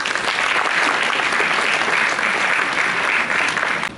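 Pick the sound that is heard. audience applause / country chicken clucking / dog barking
audience applause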